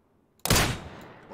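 A single loud, close gunshot in the shooter game PUBG on the snowy Vikendi map cracks out abruptly after near silence, then its echoing tail fades over the following second.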